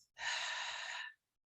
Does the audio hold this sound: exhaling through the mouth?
yes